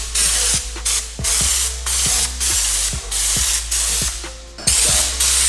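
Loud bursts of pneumatic spraying as a DIY Raptor Liner bedliner coat goes onto a truck flatbed, about six hissing blasts with a rhythmic clack of the spray gun trigger between them, close up with no talk.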